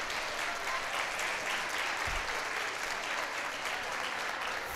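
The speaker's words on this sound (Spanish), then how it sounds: "Buen aplauso para todos ustedes." An audience at a stand-up talk applauds, a steady, fairly faint wash of many hands clapping heard from a distance, unbroken throughout.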